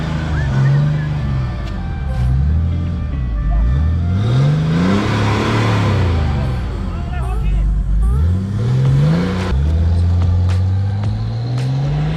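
A Mercedes-Benz W210 3.0 diesel car engine revs up and down repeatedly, rising and falling pitch in several surges, loud and close, with voices talking over it.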